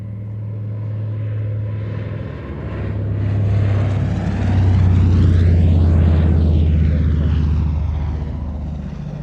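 A single-engine amphibian flying boat passes at an airshow, its engine drone swelling as it approaches, peaking loud overhead with a sweeping pitch shift, then easing slightly as it moves away.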